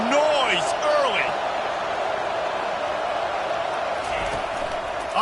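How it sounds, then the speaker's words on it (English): Stadium crowd noise in College Football 25, a dense, constant roar of a packed video game crowd with whistles and shouts rising above it. "This crowd bringing the energy and noise early."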